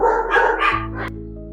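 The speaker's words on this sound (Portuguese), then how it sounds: "Os cachorros pararam de latir." Dogs barking close by, a quick run of loud, sharp barks in the first half second that then trails off into quieter sound, with no speech over it.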